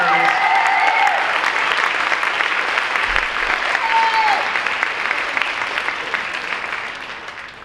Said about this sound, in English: One more round of applause for these hardworking seniors.